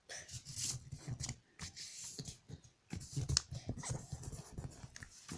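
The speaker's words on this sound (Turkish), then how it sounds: "Kağıdımızı böyle tutuyoruz ve böyle katlayıp açacağız" Origami paper crinkles and rustles as it is held, creased and folded open for a paper necktie, in quick bursts of crisp crackling with short pauses between them, close up and with no talking.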